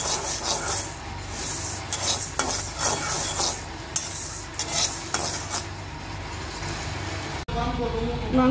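Dal being lightly fried in a pan, continuous sizzling with repeated rasping strokes of a spoon stirring and scraping the pan bottom, close and steady, ending in a brief cut to a different sizzle.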